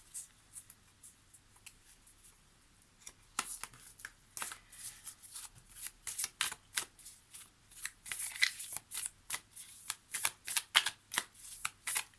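Oracle cards from an animal and ancestral presence deck being shuffled close up: soft bursts of riffling and sliding that turn into a dense, steady run of crisp card flicks, with no talking.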